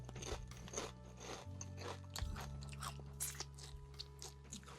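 Someone chews crunchy Quest tortilla-style protein chips close to the mic, a steady run of crisp bites and crunches over a low background hum.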